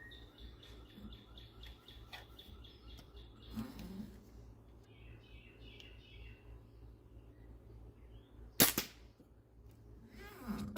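Single shot from a Hwasan/Farsan Target Series CO2 airsoft pistol firing a steel BB, one sharp sudden crack midway, with birds chirping outdoors and faint handling noises around it.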